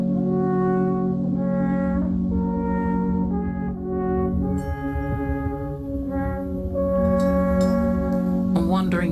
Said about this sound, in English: that's the sound of the alpine horn